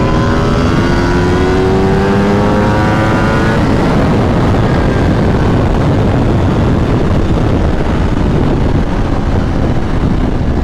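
A 2026 Aprilia RSV4 Factory 1100 sportbike at full throttle, its engine screaming loud and close as it climbs through the revs, then holding a roaring high-speed drone with heavy wind rush.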